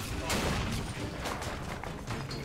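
Gunfire in the video game Bioshock Infinite, a dense rattle of repeated shots at moderate volume, mixed with game noise and a faint voice.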